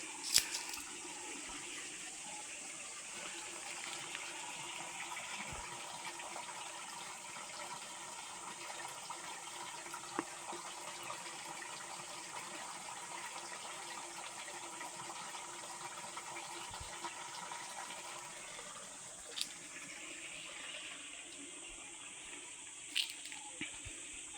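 A mountain stream flows on Sathuragiri hill, a faint, constant rushing of water with a few soft clicks and knocks scattered throughout.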